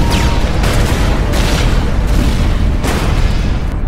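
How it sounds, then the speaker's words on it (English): A bomb explodes in a Manipuri action film: a loud, sustained booming blast that fills the whole stretch, with rumbling bursts rolling on at full volume. "it's a bomb"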